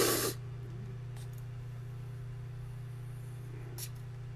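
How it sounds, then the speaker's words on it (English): A handheld spray bottle of mineral spray gives one short spritz up close at the start, then a quieter second puff later, over a steady low electrical hum. "then I spray this in my nose, on my eyes, in my ears every day"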